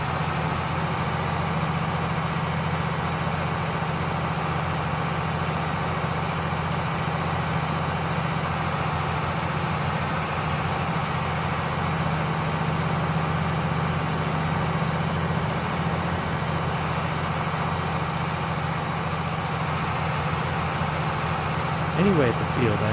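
A tractor engine idles steadily in Farming Simulator 22 at a field, a constant low mechanical drone throughout while someone talks over it.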